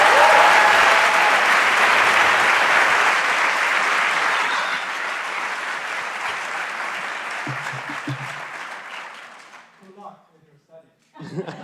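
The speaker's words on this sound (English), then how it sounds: "How about one more round of applause?" An audience at a Berkeley Haas talk gives a full round of applause that starts loud and dense, thins out gradually, and gives way to scattered chuckles and murmuring at the end.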